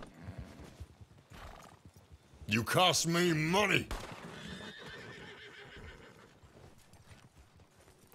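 Horses whinny and neigh loudly in a brief burst amid clip-clopping hooves in the Red Dead Online video game, with someone shouting and muttering over the scene.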